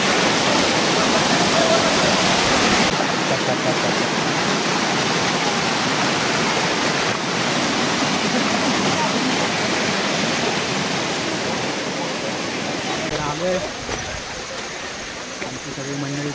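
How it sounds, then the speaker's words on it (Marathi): A small waterfall and flowing water at Korigad fort near Lonavala, a steady, loud, close rushing roar that continues unbroken throughout, with a faint voice briefly audible near the end. "पुढे छोटा असा धबधबा पण पाहायला मिळतो"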